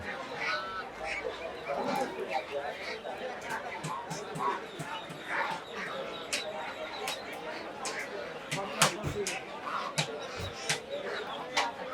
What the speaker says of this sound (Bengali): মাশাআল্লাহ সুন্দর সুন্দর বড় বড় রাজহাঁস।